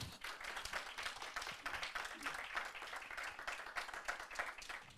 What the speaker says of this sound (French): On peut applaudir nos panélistes,